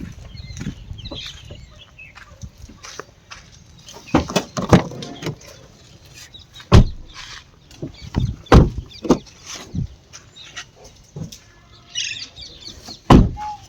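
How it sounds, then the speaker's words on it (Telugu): Doors of a 2017 Maruti Ertiga SHVS are opened and shut several times, each sharp thud or latch click standing out clearly against quiet outdoor surroundings with faint bird chirps. "డోర్ల సౌండ్ చూసుకోవచ్చు టోటల్ ఒరిజినాలిటీ తోటి ఉంది"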